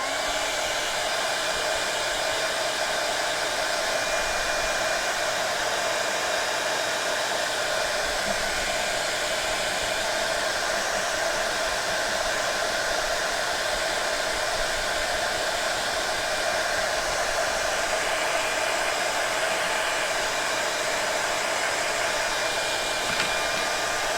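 A hair dryer blows steadily on a watercolor painting, a loud, constant whooshing hum close by that runs unbroken for the whole stretch.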